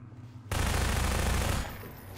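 Rapid automatic gunfire from weapons in the video game Half-Life 2 erupts as one loud, dense burst lasting about a second, then drops back to a quieter background rumble.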